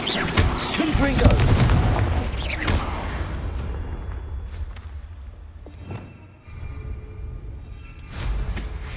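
Confringo explosive spell cast in the Hogwarts Legacy video game, heard as a run of loud booming blasts with crackling tails, one heavy burst near the start and sharper cracks recurring later over a steady rumbling background.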